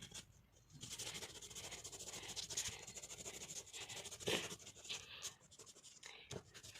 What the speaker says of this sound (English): you can start blending the oceans. Use the other tissue paper that you used for the green part.